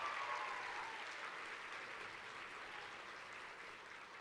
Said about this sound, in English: Let's have a round of applause for Maddie for producing that fantastic video.